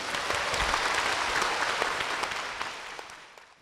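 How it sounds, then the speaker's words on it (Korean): A church congregation applauds to welcome a woman to the front, with many hands clapping in a dense, even wash that holds steady and then fades away toward the end. "박수로 모시겠습니다"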